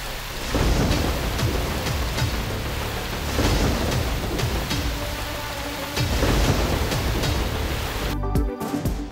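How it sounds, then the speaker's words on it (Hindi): Heavy stormy rain pours down steadily with repeated rolling thunder, a loud, dense wash of noise that swells in waves and briefly breaks off near the end. "123 मिलीमीटर की तूफानी बारिश।"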